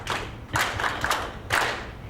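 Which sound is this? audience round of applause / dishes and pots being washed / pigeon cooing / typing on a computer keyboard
audience round of applause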